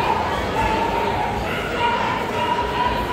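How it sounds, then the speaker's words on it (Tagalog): Several dogs bark and yip amid the busy hubbub of a crowded mall food area, with steady chatter and talk running throughout. "kaso ang daming aso"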